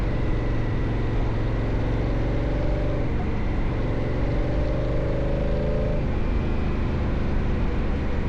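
A Honda Africa Twin motorcycle riding Tennessee backroads, its engine a constant loud drone with steady rising and falling pitch as it holds speed, overlaid by heavy wind rush.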